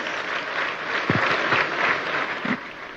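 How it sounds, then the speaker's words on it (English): Audience at a Delta State gathering of Nigerian leaders gives a warm round of applause, a steady wash of clapping with a couple of brief voices rising through it. "Please give them a round of applause."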